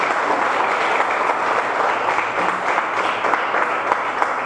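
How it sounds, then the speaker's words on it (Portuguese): Church congregation applauding during a worship service, a dense, steady wash of clapping from many hands that stays loud and even throughout, with faint voices mixed in. "Dê uma salva de palmas para Jesus."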